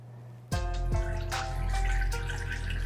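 Water poured into the pan of a Zojirushi Virtuoso bread machine for multigrain bread, starting abruptly from quiet with a loud close stream that rings and gurgles steadily as the pan fills.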